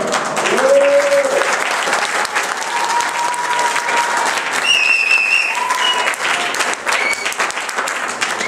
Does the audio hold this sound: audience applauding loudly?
yes